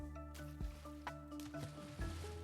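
Quiet bubbling water in Minecraft pops and drips in soft, scattered bursts over faint, sustained game tones.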